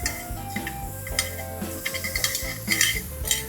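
Chopped lechon sisig is moved onto a hot sizzling plate, with a steady hiss under repeated clinks and scrapes of utensils against metal and a low hum, close by with no talking.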